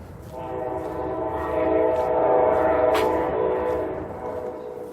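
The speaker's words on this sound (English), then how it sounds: "competing with a train horn." A loud, sustained train horn blares with rich stacked tones, swelling through the middle and holding steady, with rumbling rail noise underneath.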